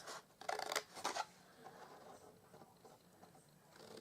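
Scissors snipping through card to cut the bottom flaps of a handmade gift box, a few quick close snips early on, then quieter handling rustle.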